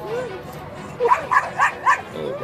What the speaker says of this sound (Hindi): ये दो बंदरों ने एक कुत्ते को घेर लिया और ये फाइट चल रही है खतरनाक